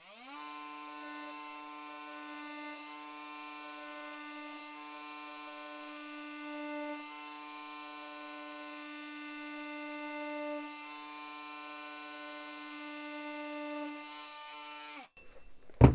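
An Enventor 20V 300W brushless cordless oscillating multitool cuts foam padding from electronic equipment, giving a steady buzzing whine with a slowly wavering pitch that ends abruptly with a short clatter.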